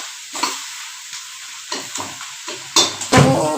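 Masala sizzles and fries in a hot pan, stirred with several distinct scraping strokes, close and fairly loud with no talking.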